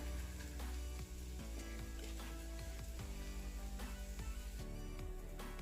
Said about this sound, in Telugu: 1 నిమిషం పాటు లో ఫ్లేమ్లో ఉంచేసి ఇలా వేయించుకోవాలి